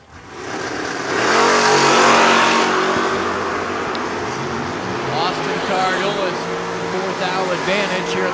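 Drag race cars, a Pontiac and a Chevelle, launch with a loud roaring engine surge that swells and then holds steady, while crowd noise and an announcer's voice carry over the top.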